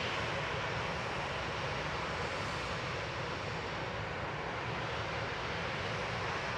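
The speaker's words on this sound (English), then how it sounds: "Lufty, flight 949. Heading back to Frankfurt, A320 Classic" A Lufthansa Airbus A320 Classic departing Manchester Airport for Frankfurt gives off a steady, broad jet roar at moderate, even loudness throughout, with no voices over it.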